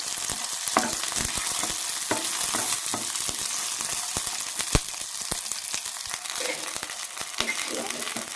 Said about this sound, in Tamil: மிதமான கீழே வச்சு வதக்கிங்க கருவேப்பிலை சேர்த்துக்கலாம்